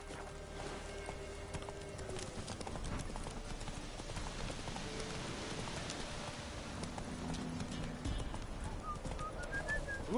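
Horse hooves clip-clop steadily in the video game Witcher 3, a continuous rhythmic trot of moderate loudness with faint bird calls behind it.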